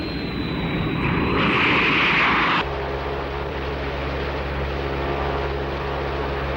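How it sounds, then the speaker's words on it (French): A small tourist plane drones steadily in flight, its engine a continuous low hum with a brief brighter rush early on before settling into an even, sustained tone. "C'est un petit avion de tourisme."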